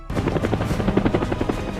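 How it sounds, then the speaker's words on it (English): A helicopter arriving at a celebration in a town, its rotor blades chopping in a fast steady rhythm, loud and close, heard on its own. "a helicopter comes"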